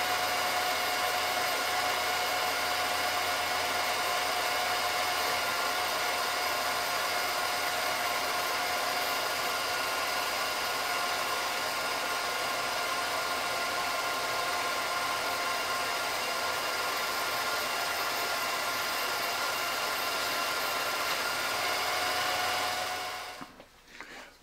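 A vintage Revere Model 85 8mm movie film projector rewinds its reel with a steady, loud motor whir and fan hiss, holding constant for over twenty seconds before abruptly cutting off.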